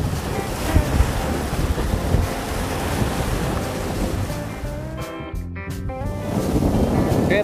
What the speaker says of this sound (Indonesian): Bisa kita lihat sendiri ini ombaknya udah gede banget teman-teman